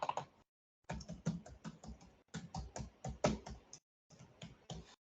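Rapid clicking keystrokes on a computer keyboard come in close bursts as an email address and password are entered, with short silent pauses between the runs of typing.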